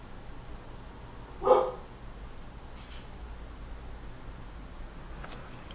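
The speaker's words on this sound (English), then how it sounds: "It sounds like my dog wants to go outside." A single muffled dog bark sounds from another room, faint and brief, against a quiet indoor background in a workshop setting.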